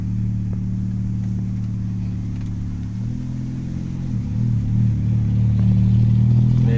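A car is driven on a road test after its front brake pads were replaced. The engine gives a steady low drone that swells louder toward the end. There is no talking.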